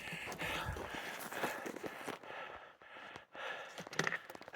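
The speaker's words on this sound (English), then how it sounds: "You can hear me breathing." Heavy breathing from a person hiking on a backcountry ski trip in the mountains, close and fairly quiet, with audible breaths and light movement sounds and a brief quieter pause.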